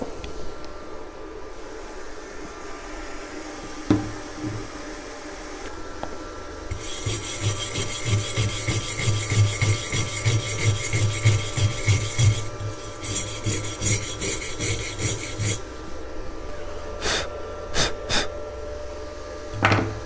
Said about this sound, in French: Donc vous voyez un peu comment ça soude